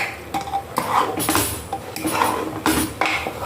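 Potatoes seasoned with salt and turmeric are mixed in a pot with a utensil, giving several scraping clinks and clattering strokes in an uneven rhythm, close and fairly loud, with no talking.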